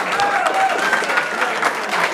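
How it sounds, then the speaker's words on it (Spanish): Guests at a quinceañera celebration with a mariachi band give a short burst of loud, close applause, with a few cheers and voices mixed into the clapping. "Un aplauso bien fuerte,"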